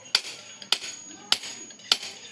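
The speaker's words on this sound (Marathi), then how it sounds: "हातोड्याने काम." A hammer strikes metal during construction work for a house wall, with angle pieces being freed. Four sharp, ringing blows fall at roughly even intervals of about 0.6 seconds, each trailing off in a short metallic decay.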